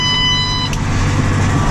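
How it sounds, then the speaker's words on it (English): A short, high electronic warning beep from an Amazone ZAV fertilizer spreader sounds as it stops or starts spreading, over a loud, steady engine drone, then stops as the machinery keeps running. "That beeping is each time I stop and start the spreader."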